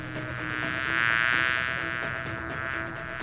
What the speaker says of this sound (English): his car was swarmed by thousands of bees